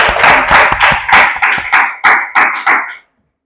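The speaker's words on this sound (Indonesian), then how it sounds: "kasih tepuk tangan untuk kelompok 2" A small group claps in a loose rhythm for about three seconds, close and fairly loud, then stops abruptly into silence.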